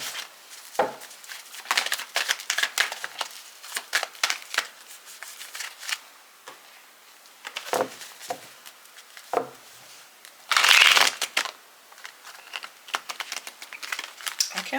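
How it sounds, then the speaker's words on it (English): Tarot cards shuffled by hand during a love reading, giving bursts of soft riffling and flicking clicks that come and go irregularly, with one louder, denser riffle near the end. "why can't I shuffle?"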